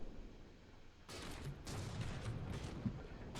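A damaged ship gun firing in a naval video game, a burst of rough, rumbling gunfire that starts abruptly after a quiet moment and continues as a sustained rattle of shots, moderately loud with no talking.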